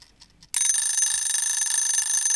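A timer alarm for a brow tint goes off with rapid, shrill, repeated electronic beeps, loud and close, starting abruptly after a moment of near silence.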